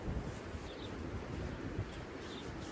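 Strong wind roars steadily outdoors during a snowstorm in Germany, a dense, continuous rushing noise with gusty swells and no voices.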